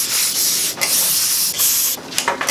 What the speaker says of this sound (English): I will just hit that with some carb cleaner